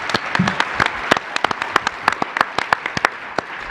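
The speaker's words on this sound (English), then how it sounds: "I'd like to give a round of applause for the Physicians Foundation" A conference audience applauds for a medical foundation at a direct primary care panel, steady crowd clapping with distinct sharp individual claps standing out near the microphone.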